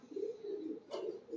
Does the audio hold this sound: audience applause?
no